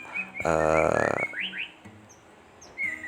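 A magpie-robin (murai) kept in a hanging cage sings nearby: a loud, rich burst of warbling whistles followed by short, bright upward chirps and sparse tweets, with no talking.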